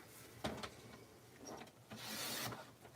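A paper trimmer slices through journal pages, several faint rasping strokes of the blade with soft rubbing of paper between them, quiet and close.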